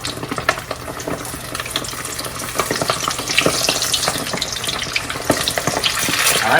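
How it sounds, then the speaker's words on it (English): Close, crackling sizzle of chicken wings frying in hot oil in a pan, with sharp pops and spatters, growing slightly louder, no voices. "I have the first batch to go in the frying pan"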